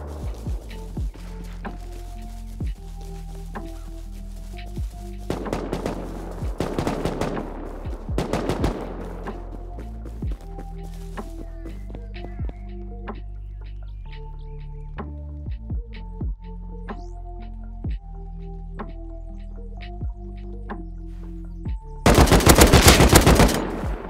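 AK rifle fire in the video game Rust comes in sharp single shots and short rapid bursts, loud and close over a steady low hum, with a dense final burst near the end.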